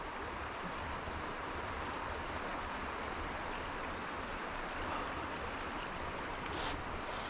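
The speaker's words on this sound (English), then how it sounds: "So the only noise I've got is a slight trickle of water." Water trickles and washes steadily at a sluice gate beside Nafferton Castle, a continuous broad hiss with faint breezy noise and no voices.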